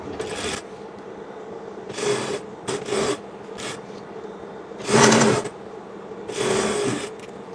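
A sewing machine stitches the hem of a georgette kameez lining in several short, separate bursts of rapid mechanical whirring with quiet pauses between them.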